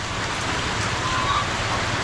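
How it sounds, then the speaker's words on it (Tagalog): Heavy rain falls outdoors as a dense, steady hiss, constant and fairly loud throughout with no gaps. "Lakas na naman ng ulan"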